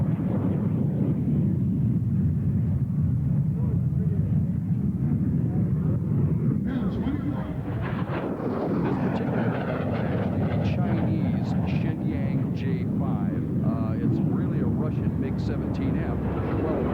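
A MiG-17F jet fighter roars past, a steady loud broadband rush of engine noise that swells and shifts midway, with a commentator talking over it throughout.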